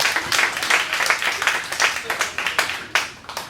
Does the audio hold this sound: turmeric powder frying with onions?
no